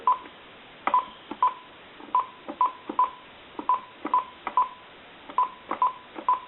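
Touch-tone keys on a GE 25881EC A telephone sound one after another as a string of short, clear dual-tone beeps, evenly spaced in small groups and heard alone.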